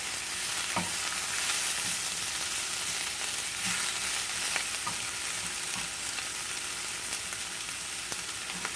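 Spinach for a Greek omelet wilts in a hot pan as tongs move it around, making a continuous close sizzle with light scraping and tapping throughout, and no speech.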